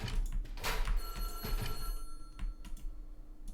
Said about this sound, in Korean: 전화 왔어.